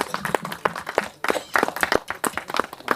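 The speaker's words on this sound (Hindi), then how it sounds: "एक बार जोरदार तालियां प्लीज" Loud, dense applause at a film press conference for the movie Dashmi, claps rising and falling in bursts for about three seconds with a brief dip near the middle.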